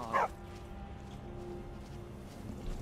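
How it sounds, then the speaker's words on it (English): Dog in the Skyrim video game, giving a single short bark near the start, then a faint game ambience hum. "Dog."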